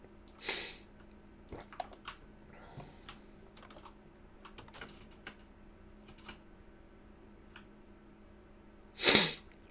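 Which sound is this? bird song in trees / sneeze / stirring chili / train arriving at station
sneeze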